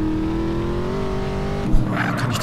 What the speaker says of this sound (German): Zum Glück bremst der Wagen relativ gut.